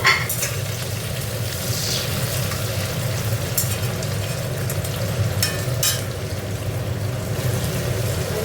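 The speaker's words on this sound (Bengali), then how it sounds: "টমেটোটাও ভাজা ভাজা হয়ে গেছে সেরকমভাবে করে দিচ্ছি" Tomatoes frying in a pan for a spicy tangra fish curry, giving a steady, continuous sizzle with low bubbling and a few faint scraping stirs, close and unbroken with no talk.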